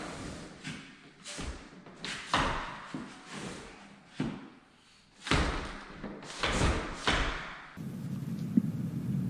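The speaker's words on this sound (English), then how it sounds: "Now the door should lift right up." A vinyl patio sliding door being lifted and worked out of its frame, giving a run of loud thumps, knocks and scraping bumps at uneven intervals, close by.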